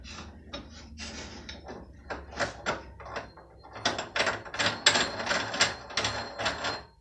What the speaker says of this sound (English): you screw the face plate into the wood like that